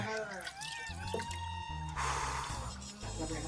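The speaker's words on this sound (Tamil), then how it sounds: "சிக்கன் அலசுறது தான்ப்பா" Raw chicken for biryani being washed by hand in water, with splashing, squishing and dripping up close under continuous talk.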